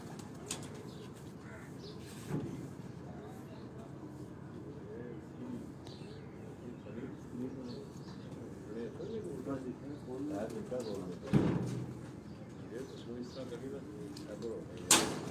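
Pigeons coo softly on a rooftop, faint repeated low calls mixed with wing flutters and occasional sharp knocks, while people talk nearby over them.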